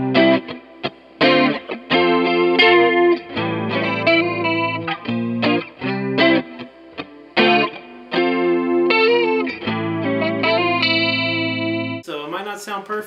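Electric guitar plays the post-chorus breakdown of a song through chorus and distortion effects, with sustained chords and short choppy stabs in a stop-start rhythm, close and clear, ending on a brighter strummed chord.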